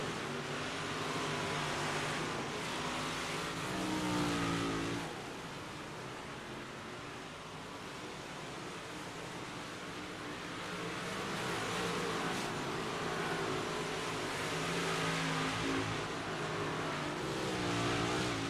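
Race cars in an iRacing heat race at Snydersville Raceway roar continuously, with engine pitches rising and falling as cars battle side by side, loud and close throughout.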